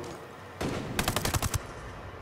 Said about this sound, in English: Oh, I've just been sniped.